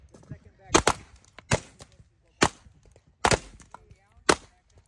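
Pistol shots on a women's team stage at the 2024 Magpul Showdown shooting competition: about six sharp, cracking reports spaced irregularly over a few seconds, moderately distant, with a faint background murmur.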